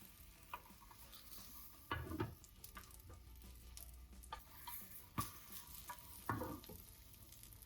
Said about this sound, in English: Use chopsticks to scrape the egg from the side of the pan.